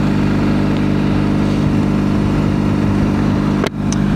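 A BMW R1200 GSA motorcycle's engine and exhaust drone steadily while riding, a loud, constant low rumble that briefly dips near the end.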